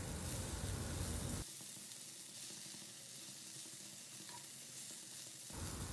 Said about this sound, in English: We'll quickly stir the prawns along with the veggies and the seasonings